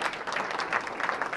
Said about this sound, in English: I always get a little nervous when people start applauding before we've given the presentation